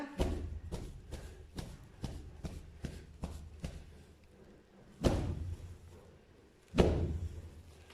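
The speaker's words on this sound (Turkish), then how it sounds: "Ben bunları tekrar şöyle bir çubuk vuruyorum arkadaşlar" Goat wool is beaten with a stick in a village, giving a steady series of soft, dull thumps about every third of a second. Two heavier, louder whacks follow after a short pause, all fairly faint with no talk.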